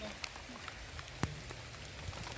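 Rain falls at the Ilaveezhapoonchira hilltop amid fog and strong wind, a steady soft hiss of drops on surfaces with a few sharper nearby patters, fairly faint overall.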